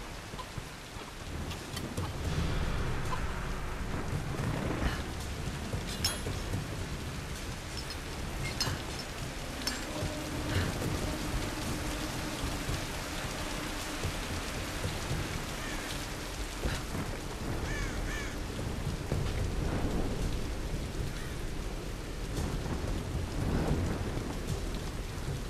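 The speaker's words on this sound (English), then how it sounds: "the wind's pretty fierce, and the rain is coming from the side" Heavy rain pours steadily in the video game Tomb Raider, with rolling thunder rumbling low throughout, a dense, loud storm wash with no voices.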